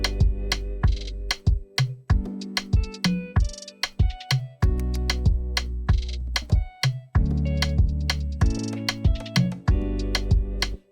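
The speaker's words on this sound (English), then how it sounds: "Our drum and everything that we've added so far with our cozy synth sounds like this" A warm hip-hop beat plays on its own, with punchy drums and a soft, cozy synth laying down steady chords under a regular kick-and-snare rhythm, loud and continuous.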